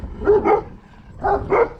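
Dogs bark in two quick pairs of close, loud woofs with a brief gap between the pairs, with no voices over them.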